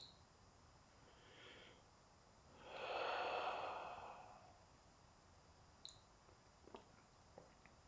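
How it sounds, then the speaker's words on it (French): One slow, deep, soft breath rises and fades during a quiet relaxation session, followed by a few faint clicks in near silence. "Un peu comme cette respiration."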